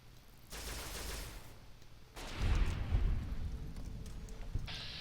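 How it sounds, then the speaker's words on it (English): Gunfire in the video game Fallout New Vegas aimed at giant ants: sustained loud bursts of shooting, a first volley followed by a heavier, booming stretch of rapid shots, close and without talk. "just continue shooting at the ants"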